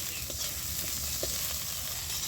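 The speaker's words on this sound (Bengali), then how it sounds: "ভেঁড়িটা দিয়ে আমি ভালো করে ভেজে দেব।" Okra frying in a pan after a pinch of salt is added, for a tangy tamarind dish; a soft, steady sizzle runs throughout with faint scattered pops, quiet and even, with no voices.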